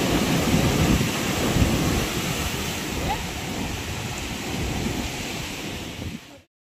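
Wind roars and rain pours steadily, a dense rushing storm noise with gusty low rumbling that fades out at the end.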